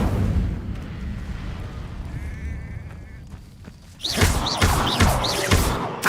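A fire spell is cast in the Hogwarts Legacy video game, bursting in as a loud, crackling whoosh partway through, after a quieter stretch of low rumbling game ambience.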